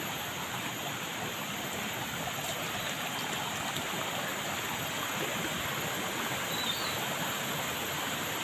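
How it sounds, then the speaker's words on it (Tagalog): A creek flows steadily outdoors, its broad, even rushing and burbling water holding constant and fairly close throughout, with no voices. "Nandito na po ako sa may sapa"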